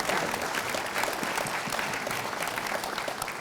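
Steady applause from a live audience at a panel discussion event, a dense even patter of many hands clapping throughout, fairly loud and without voices.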